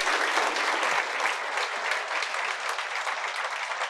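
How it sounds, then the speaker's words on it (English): Steady audience applause in an academy hall during a question-and-answer session, honoring a guest with a gift; dense clapping continues evenly at moderate loudness throughout, with no voices. "Keep clapping."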